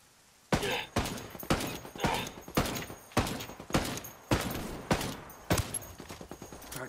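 Gunfire in Ghost Recon Wildlands, about a dozen sharp, loud shots in an irregular rhythm with ringing tails between them, close and prominent, with no talking.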